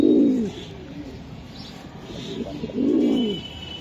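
Racing pigeons coo in two low, rounded phrases at the start and end, fairly close and clear, with quieter murmuring between them.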